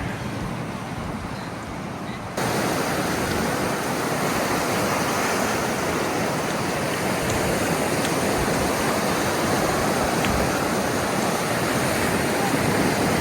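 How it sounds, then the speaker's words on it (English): Big ocean waves breaking on a South Carolina beach on an overcast, breezy day, a loud continuous wash of surf close by that swells further after the first couple of seconds. "There's some big waves out there."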